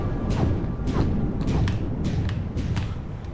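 Several heavy thuds and whooshing swipes repeat in a loose rhythm as a mechanism is pulled in Tomb Raider Underworld, a mechanical video game effect over a dense low rumble.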